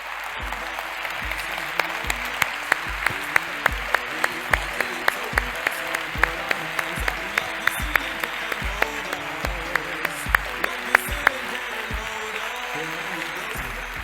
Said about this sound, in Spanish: quiero que le demos un fortísimo aplauso